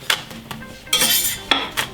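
A pan of roti canai flatbread with butter gives off a few sharp metallic clinks and scrapes of a utensil against the pan, separated by brief pauses over a faint sizzle.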